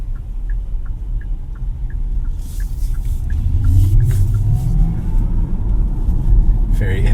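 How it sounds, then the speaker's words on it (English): A Kia EV6 GT-Line electric car accelerates in sport mode, a rising synthetic electric whine over road rumble inside the cabin, with a faint regular ticking and people talking. "you get that audible, like, electric sound when you accelerate the car"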